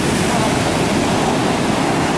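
Pacific Ocean surf rolling onto the beach at Brookings, Oregon, a loud, steady roar of breaking waves and wash filling the whole moment, with wind buffeting the microphone.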